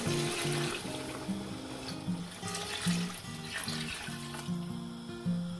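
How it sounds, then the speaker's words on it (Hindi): Water pours steadily into a pot of rice for chana pulao, a continuous watery splashing and gurgling with faint metallic clinks, close by and fairly quiet, with no talking. "अब यहाँ पे मैं इसमें पानी ऐड करूँगी।"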